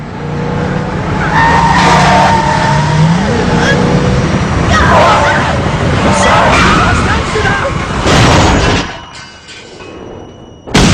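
A car skidding and crashing in a film scene: a loud, sustained tire screech and engine roar under overlapping narration and dialogue, ending in an abrupt drop-off followed by a short burst.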